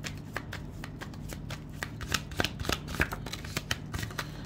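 Tarot cards being drawn and shuffled, a steady run of crisp riffling flicks and soft card slaps close to the microphone, with no one speaking.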